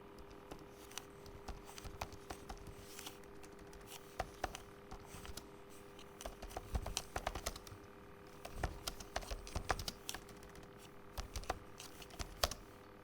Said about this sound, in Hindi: Please bear with me for the typing.